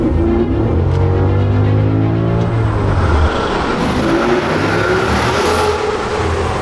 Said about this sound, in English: it sounds phenomenal. V10s are insane.